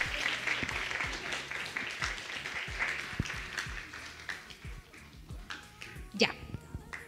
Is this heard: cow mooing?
no